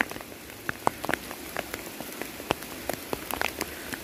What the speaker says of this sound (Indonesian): Bener-bener hujan.